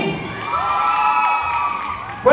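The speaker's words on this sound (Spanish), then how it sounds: "Fuerte el aplauso para Fernando." Crowd of children and adults cheering and whooping loudly for a contestant at a live comedy show, a sustained roar with high shouts and a sharp burst at the end.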